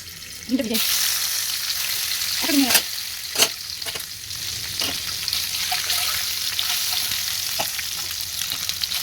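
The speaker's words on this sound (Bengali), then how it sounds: "ডিমটা ভাজা করে নেব।" Egg frying in a pan of hot oil at home sizzles steadily and loudly, broken by a few sharp clinks of a spatula stirring, with no talking.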